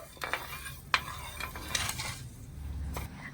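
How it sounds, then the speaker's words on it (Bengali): Sugar and water being stirred together in a pan until the sugar dissolves into a thin syrup for ripe palm sweets: light, intermittent scrapes and clinks of a spoon against the pan, quiet and with no voices. "এক বাটি চিনির জন্য দেড় বাটি ভালো করে নেড়ে ছেড়ে মিশিয়ে চিনিটা আমি গলিয়ে নেবো"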